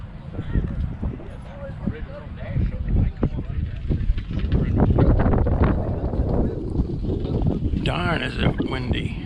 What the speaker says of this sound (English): Darn, is it windy.